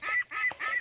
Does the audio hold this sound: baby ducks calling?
yes